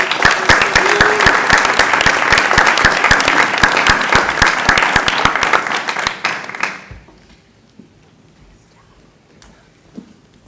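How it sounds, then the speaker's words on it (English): Loud, dense applause from an audience at a school board meeting, sustained for about six seconds and then quickly dying away into near quiet with a few stray claps. "how about one more round of applause?"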